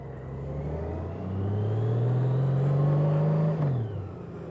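A motorcycle rides a figure eight, its engine droning and rising in pitch as it revs, then falls off sharply as the rider brakes hard. The sound is close, continuous and moderately loud, with no talking.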